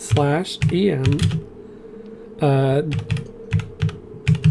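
Keys clatter on a computer keyboard in short bursts of taps, close and fairly loud, with a voice speaking between the bursts.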